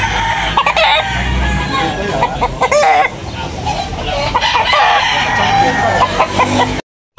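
Roosters crowing and clucking at a chicken market in Tabunok, Talisay, loud and close with several birds calling over one another, while someone talks throughout.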